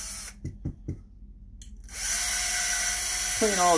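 A variable-speed power tool spinning up to clean grit and carbon from a Glock magazine, a steady high whine starting after someone speaks briefly, then pitch shifting as the speed changes.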